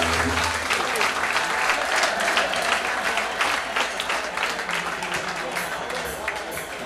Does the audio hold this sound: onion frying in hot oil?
no